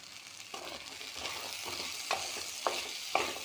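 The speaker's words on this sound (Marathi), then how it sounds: "तर ह्या आठळ्या थोड्याफार शिजत आल्या आहेत" Jackfruit seeds cooking in a pan give a soft steady sizzle while a spoon stirs them, scraping strokes that come several times with light clinks against the pan.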